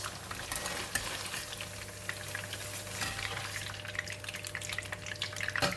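Hard tofu fries in a pan of oil with a continuous dense crackle and sizzle at moderate level, over a low steady hum, with a few sharper pops along the way.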